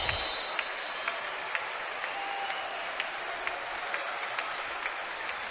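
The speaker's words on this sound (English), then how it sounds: "Crowd on its feet here in the field house." Women's volleyball crowd applauding and cheering steadily in a field house during a Wisconsin versus Green Bay match before a set point serve, a dense continuous roar with scattered sharper claps and no speech.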